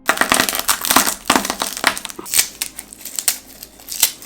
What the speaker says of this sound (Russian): Раздавливаем головку чеснока.